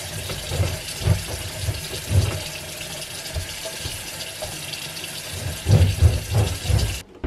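Kitchen tap running into a sink while washing up in a tiny kitchen, a steady close rush of water with louder splashing bursts as dishes go under the flow, ending abruptly; no talk.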